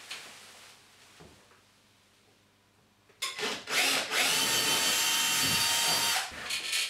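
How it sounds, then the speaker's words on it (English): Quiet handling noises, then a power drill starts up loud and close, whirring and grinding as it drills up through a ceiling into the loft space, with brief pauses and restarts. "I'm now going to drill an hole up into the loft space"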